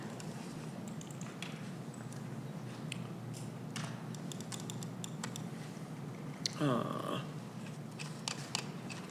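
Scattered, faint clicks of typing on a computer keyboard during a town council meeting, over steady room hum, with a brief voice partway through.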